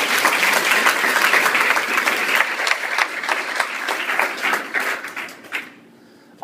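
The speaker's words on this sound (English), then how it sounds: "Let's give them a round of applause again." An audience at a high school baccalaureate ceremony breaks into loud, sustained applause, a thick wash of clapping that holds steady, then thins and fades out over its last second or so.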